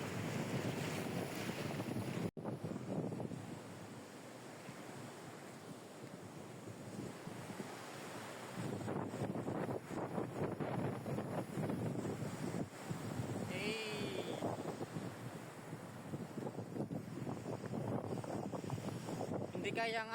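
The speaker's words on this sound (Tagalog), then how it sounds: "Grabe ang alon, lakas." Strong ocean surf breaks continuously along a shore while gusty wind buffets the microphone, a loud, roaring wash with surges of crashing water and short breathy lulls.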